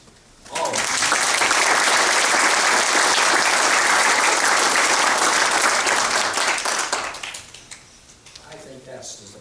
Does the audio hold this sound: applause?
yes